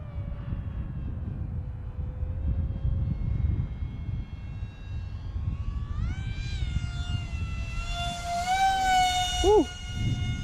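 An F-14 Tomcat model jet with wings swept out makes a low pass in strong wind, its thin whining turbine rising in pitch and sweeping past, with a sharp Doppler drop near the end over steady wind rumble.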